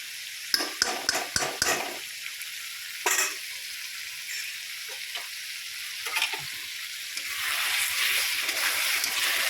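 Rui fish curry in a pan being stirred after a spoonful of ghee goes in, a steady frying sizzle with a series of sharp spoon-against-pan knocks early on, then a continuous hiss that swells louder toward the end.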